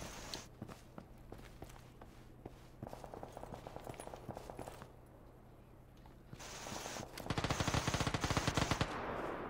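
Gunfire in the battle royale game PUBG: bursts of automatic shots and scattered single reports mixed with running footsteps, growing louder and denser toward the end.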